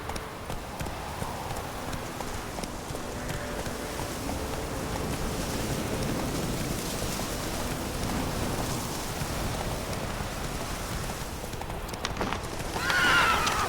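Roach, a horse in the video game The Witcher, gallops with rhythmic clip-clopping hooves over a rainy backdrop, then lets out a sharp loud whinny near the end.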